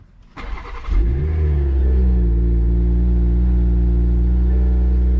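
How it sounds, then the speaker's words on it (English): A 2021 Toyota Supra's engine, not started in a while, cranks briefly, then catches and settles into a loud, steady idle rumble. "Let's turn the car on."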